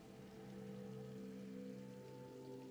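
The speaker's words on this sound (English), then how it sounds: "It's raining out." Rain hisses steadily in the Little Nightmares 3 video game, a soft even wash under faint tonal game ambience, quiet and continuous with no voices.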